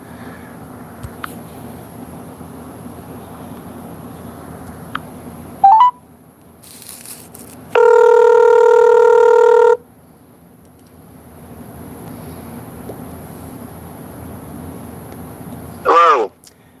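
A phone call being placed during a live stream: a steady electronic ringback tone sounds for about two seconds, framed by short beeps, over low background hum.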